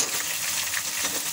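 Garlic and ginger hit hot oil with golden-brown onion and tomato masala, giving a dense, continuous close-up sizzle and crackle for a brief moment, with no voices.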